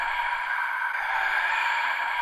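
A looped crowd-noise sample with an equalizer cutting the bass, a steady broad murmur of many voices sounding thinner in the low end, constant and unbroken throughout.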